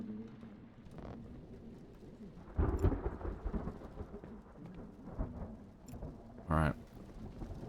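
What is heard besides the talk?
heavy rain and thunder in the video game Twelve Minutes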